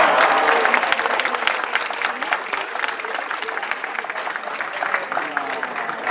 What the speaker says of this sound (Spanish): Un aplauso, 50 puntos.